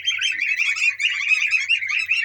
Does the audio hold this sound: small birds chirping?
yes